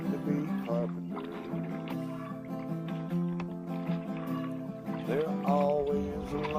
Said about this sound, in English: you can agitate these clothes really good this way